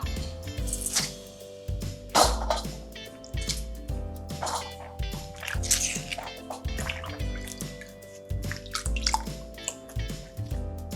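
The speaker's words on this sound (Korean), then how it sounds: "5분 정도 담궈 놨던 고추는 물기를 꼭 짜주세요" Soaked chili peppers squeezed by hand release water in repeated drips and splashes, close and fairly loud, with a steady background hum throughout.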